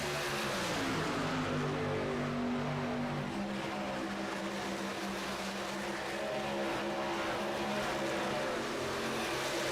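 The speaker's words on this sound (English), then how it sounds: "A group of cars 3 wide in the middle." Race cars battle in a pack on the oval at Charlotte, running side by side and three wide. Their engines make a loud, continuous, layered roar for the whole stretch, with no voices over it.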